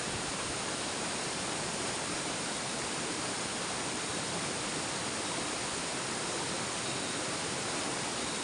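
A tall waterfall at night pours in a dense, unbroken hiss of rushing water, steady and moderately faint, with no voices over it.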